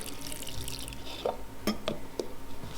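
A little water poured into a mixer-grinder jar of chopped capsicum and salt for chutney, heard as several separate close drips and small splashes over a faint background hiss, with no one talking.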